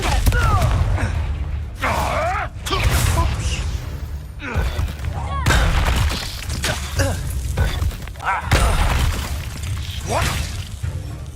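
A Confringo blasting spell from Hogwarts Legacy goes off in repeated booming, crackling bursts over roughly eleven seconds, loud and close, mixed with whooshing effects, game music and voices.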